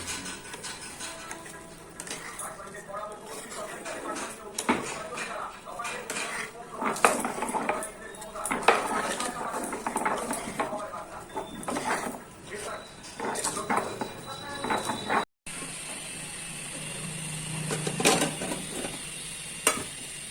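Rice, cashews and raisins for a festive pulao are stirred in a pot, with clanking spoon-on-metal scrapes and knocks and a soft sizzle. A person talks over much of it, and the sound drops briefly to quieter kitchen noise near the end.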